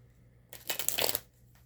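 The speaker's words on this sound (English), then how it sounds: "shuffling on camera is a little bit difficult for me." A deck of oracle cards is shuffled close by, a short burst of rapid riffling and papery flutter that swells and then stops, with no voice heard.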